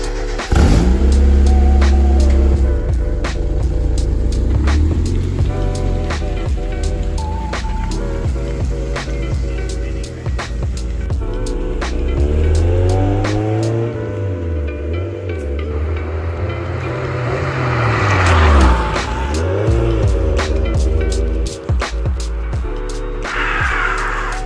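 Mazda Miata fitted with a new exhaust, driving and accelerating: steady engine drone with repeated revs rising and falling through gear changes, close and loud, with clicking and road noise throughout.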